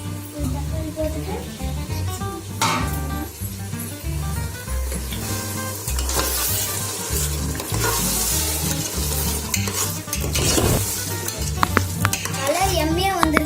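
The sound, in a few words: tomatoes sizzling and being stirred in a pan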